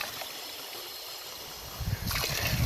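Cold spring well water at a lakeside campground pours into bottles. A quiet outdoor background gives way to a louder, gurgling flow that begins partway through.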